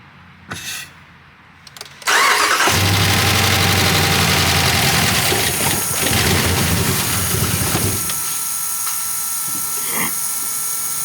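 A 2019 RAM 5.7 engine starting after fuel system repair: a couple of short clicks and whirs, then the engine catches with a loud burst and settles into a steady, slightly rough idle that quiets a little toward the end.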